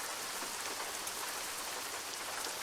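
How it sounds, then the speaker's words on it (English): Rain falling in Euro Truck Simulator 2, a steady dense patter of raindrops on the truck at night, even and continuous with no talking. "Of course it's raining."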